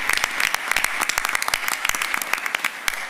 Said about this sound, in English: Let's give them all a big round of applause, please.